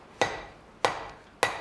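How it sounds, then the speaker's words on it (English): A hammer strikes a hot steel bar laid flat on an anvil during blacksmith forging, three sharp ringing metallic blows at a steady rhythm, each decaying briefly, close and loud with no talk. "Now using the flat side of the hammer, lay the bar flat on the anvil."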